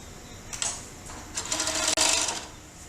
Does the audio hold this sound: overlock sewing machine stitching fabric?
yes